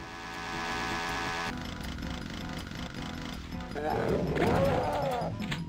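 A chainsaw buzzes in the 1993 DOS game Doom, a harsh, steady mechanical drone that grows louder and grittier toward the end, layered over other game sounds.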